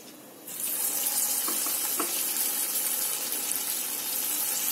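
Vegetable Manchurian balls drop into hot oil and deep-fry with a sudden loud, dense, continuous sizzle that rises sharply and holds steady, heard up close with no talking.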